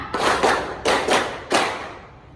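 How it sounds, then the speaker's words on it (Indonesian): Three sharp hand claps at a steady, unhurried pace, fairly close and loud, with no voices. "Tepuk 1. Tepuk 2. Tepuk 3. Tepuk 4. Tepuk 5."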